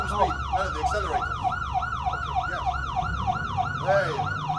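A wailing ambulance siren sounds continuously and loudly in steady rising-and-falling sweeps from a moving ambulance being driven during a medical training exercise in Israel, with engine rumble underneath.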